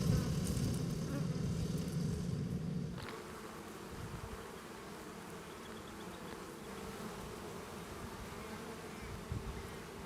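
A colony of honey bees living in a shed cupboard buzzes steadily around its hive, a dense, close drone that is loudest at first and then settles into a softer continuous hum.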